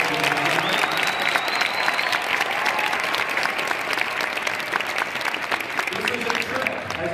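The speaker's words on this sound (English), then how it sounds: "Let's give them a big round of applause." A crowd gives the Saline High School marching band a big send-off round of applause, with continuous dense clapping, crowd voices and a sharp whistle riding over the noise.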